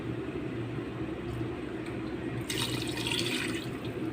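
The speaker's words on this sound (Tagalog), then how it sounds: "Tapos lalagyan din natin yan siya ng tubig." Water pours steadily into a cooking pot holding tamban sardines, a continuous splashing rush that grows brighter and more hissing partway through, near and alone without talk.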